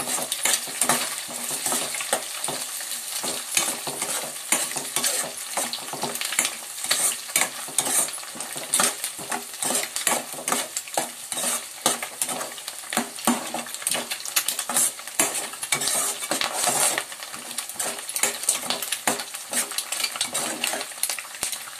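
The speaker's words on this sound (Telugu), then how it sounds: "ఇందులో కొంచెం కరివేపాకు, కొంచెం కొత్తిమీర వేసి బాగా కలుపుదాం." Spoon stirring and scraping fried rice with curry leaves and coriander in a hot pan, steady clatter over a continuous sizzle, close and moderately loud with no talking.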